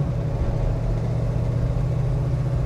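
A 1967 Chevrolet Chevelle SS exhaust gives a low, steady rumble, heard faintly and evenly for a couple of seconds with no voices.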